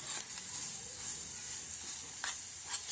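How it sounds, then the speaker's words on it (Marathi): Garlic chutney mixture frying in oil in a pan: a steady, close, bright sizzle and crackle with faint stirring scrapes, no talking. "हे थोडा वेळ असं आपल्याला तेलात भाजून घ्यायचं आहे जोपर्यंत तिचे तेल सुटत नाही तोपर्यंत"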